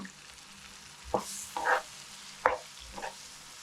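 Ground masala for a fish masala curry hitting a hot pan, giving a few short bursts of sizzling and frying, quiet and close, with brief stirring scrapes in between.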